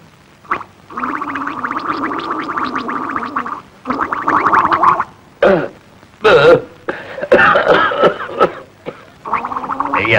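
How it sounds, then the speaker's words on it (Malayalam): A man coughs and clears his throat in rough, gurgling bursts, broken by short pauses and grunts, close and fairly loud, in a 1973 Malayalam film scene. "അതുകൊണ്ടാ ചുമയ്ക്കുന്നത്."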